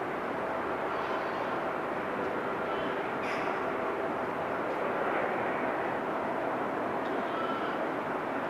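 An airplane heading out to depart from runway 24 at an airport, a steady broad engine roar holding throughout at moderate distance, with faint crow caws now and then.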